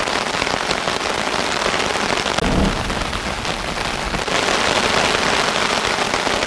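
Heavy rain pours steadily onto a hiking trail, a dense, loud, continuous hiss with no voices.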